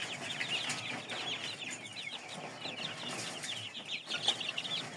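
A brooder full of young downy chicks hatched from an incubator keeps up a steady chorus of high, overlapping peeps, close and continuous over a low background hum.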